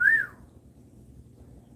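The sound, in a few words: person imitating a whistle at someone on the street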